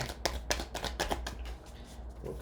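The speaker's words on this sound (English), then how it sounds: "Let's give this deck a shuffle." A tarot card deck being shuffled by hand, a quick run of riffling snaps and soft card flutters, close and fairly quiet, with no voices.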